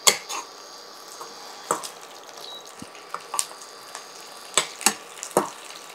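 Onion and garlic fry in a pan with a steady sizzle, broken by sharp clinks and scrapes of a utensil against the pan at irregular intervals, close and fairly loud, with no talking.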